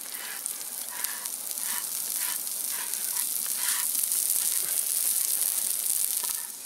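Garlic and rosemary sizzle steadily in a Dutch oven at an outdoor barbecue, a dense continuous hiss with faint crackles and small stirring bumps, close and even throughout with no talking.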